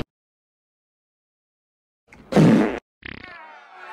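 Cartoon fart sound effect in an animated movie: after a long silence, a loud, close, half-second blurt, then a shorter sputtering follow-up that trails off.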